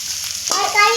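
Vegetables are dropped into a hot pan of frying lentils for khichuri, a short sharp sizzle that flares up midway through the second and continues close and bright.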